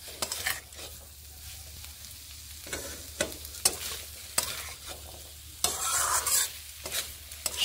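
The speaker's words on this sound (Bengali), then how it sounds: "নুন মিশিয়ে একটুখানি নেড়ে আরও একটু কষিয়ে নিচ্ছি।" Cauliflower curry being stirred and sautéed in a pan: repeated scraping strokes of a spoon against the pan over a steady low sizzle of frying, fairly close, with no talk.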